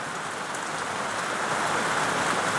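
Rain falls steadily on a Friday in New York's Finger Lakes region, a dense, even hiss of drops on surfaces, close and uninterrupted, with no voices.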